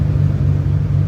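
Ford FG Barra turbocharged engine, in a Crown long-roof wagon, revving hard on a dyno, a loud, steady deep roar with a dense low rumble sustained throughout.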